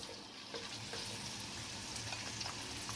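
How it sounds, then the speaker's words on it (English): Onion fries in palm oil in a pot, a quiet, dense, continuous sizzle with light crackling, close and steady. "So here I'll be adding my onion to the pot."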